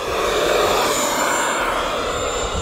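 RC model jet plane on a high-speed pass, a steady loud broadband jet roar with a high whine that holds constant throughout, with no voices.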